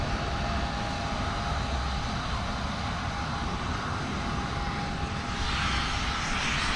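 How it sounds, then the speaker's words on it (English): A Ryanair airliner that has just landed idles with a loud, steady jet engine roar, a broad constant rumble and whine with no pauses. "that Ryanair that just landed there not too long ago"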